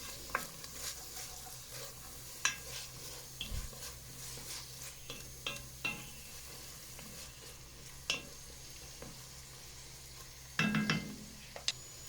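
Rice fries in butter and oil in a pan, a soft continuous sizzle broken by scraping stirs and a few clinks of utensil on the pan, close and quiet.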